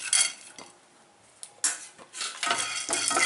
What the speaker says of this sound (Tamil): இப்போ பொட்டுக்கல்லையை சேர்த்து வறுத்துக்கிறேன்.